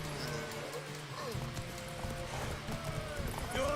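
Horse hooves clip-clop at a gallop in The Witcher 3, a quick rhythmic clatter mixed with game sounds and a brief whinny, with voices speaking over it.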